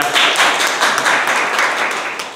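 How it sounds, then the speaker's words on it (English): A small group claps at a club speaking meeting, a steady, close patter of hand claps running throughout without talk. "Let's clap."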